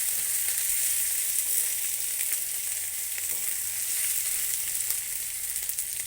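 Pieces of Bombay duck fish fry in hot oil, giving a continuous loud hissing sizzle with faint crackles, steady throughout and close by.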